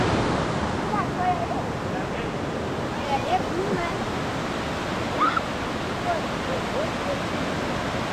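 Salto do Tigre waterfall on a forest trail in Matinhos, Paraná, a constant loud rush of falling water filling the whole span, with faint voices and occasional bird calls barely audible beneath it.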